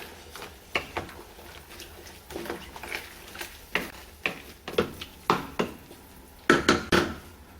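Mushrooms being stirred into a pot of chicken celestine, giving a series of close, irregular scraping clinks and soft patters of a spoon against the pot, with no talking.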